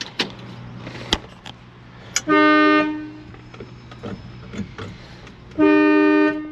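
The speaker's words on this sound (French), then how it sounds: "On espère un peu mieux de ce klaxon, sachant qu'il a trois trompettes." A car horn with three trumpets sounds two loud, steady, close blasts of about a second each, separated by a quiet gap with a few small clicks and handling knocks.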